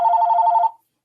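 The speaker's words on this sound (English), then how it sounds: "That's my phone." A single telephone ring, a loud steady electronic trill lasting well under a second before cutting off into silence.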